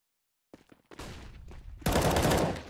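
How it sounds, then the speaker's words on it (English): A flashbang grenade bursts during a Counter-Strike esports match, a loud broadband blast swelling suddenly after scattered clicks and footsteps, then holding as a sustained bright roar. "Oh, what a flashbang that comes out."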